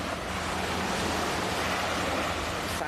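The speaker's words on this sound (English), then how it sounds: "The sound of the sea as a lullaby." Sea waves wash steadily onto a beach, a dense continuous roar of surf heard close and loud with some wind in the background.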